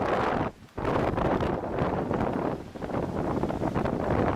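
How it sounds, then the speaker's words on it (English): Strong, cold north wind blows steadily in extreme weather outdoors beside a 1948 Chevy 5-window 1-1/2 ton truck, roaring and buffeting the microphone with a brief lull, no talking. "It's the gosh darn wind, and it just does not stop."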